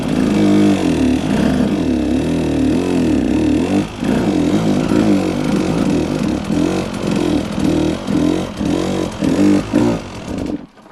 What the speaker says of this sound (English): you can start the engine and play on the clutch to get that feeling.